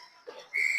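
A referee's whistle at an ice hockey game sounds as one sharp, sustained shrill blast following a brief low murmur of rink noise, with no speech.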